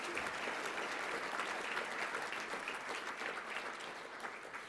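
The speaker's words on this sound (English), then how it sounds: "How about a big round of applause for those sponsors?" Steady applause from a conference audience at a biotech industry annual meeting, sustained and even throughout without a break, with no voices heard over it.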